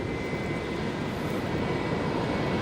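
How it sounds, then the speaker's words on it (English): An Airbus A350-900 landing at Brisbane Airport after a round trip from Auckland, its engines a broad, steady rumbling roar at a moderate distance, unbroken for the whole stretch with no talk. "The A350-900 returning after doing the round trip to Auckland today. So landing in Brizzy for the second time"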